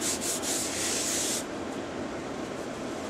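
A sunken cypress wooden platter is polished on a spinning lathe with Yorkshire Grit abrasive, giving a steady close rubbing hiss that is brighter for the first second and a half, then softer and even.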